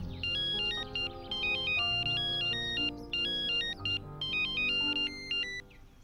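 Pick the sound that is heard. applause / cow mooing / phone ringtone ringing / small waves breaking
phone ringtone ringing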